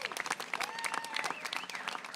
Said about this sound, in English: So huge round of applause to Mayor Adams.